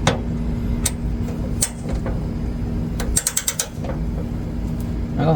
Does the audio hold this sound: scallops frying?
no